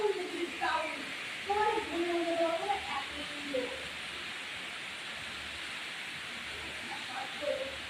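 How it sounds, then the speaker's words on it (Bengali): Steady broadband rush of a waterfall spilling down a hillside at Kamakhya near Guwahati, continuous throughout, with a voice talking over it in the first half. "আর ঝর্ণার আওয়াজও তোমরা শুনতে পাচ্ছ।"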